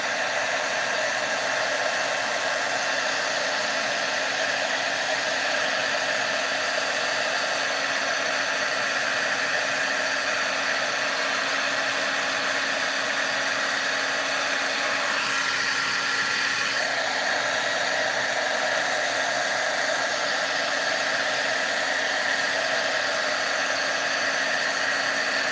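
A heat embossing tool blows hot air over a card, a steady, close, hair-dryer-like whoosh with a faint hum that runs unbroken throughout.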